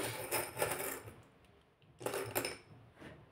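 Small metal charms dropped onto tarot cards, two quiet clusters of light clinking and tinkling about a second and a half apart, close by and faint, with no talking.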